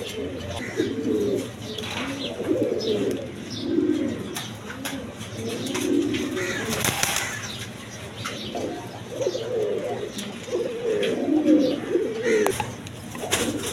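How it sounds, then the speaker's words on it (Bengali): Jacobin pigeons, a quality pair sitting on eggs, coo in repeated rolling phrases through the whole stretch, fairly close and steady, with a brief sharp noise near the middle. "এখানে এক পেয়ার আপনার কবুতর আছে, জ্যাকোবিন কবুতর"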